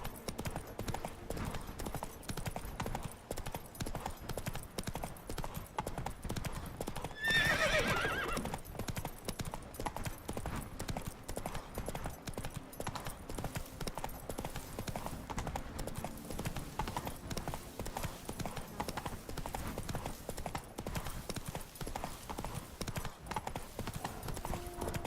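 Roach, a horse in The Witcher 3 video game, gallops in a steady, continuous clip-clop of hooves throughout, with a brief whinny partway through over a dense game soundscape.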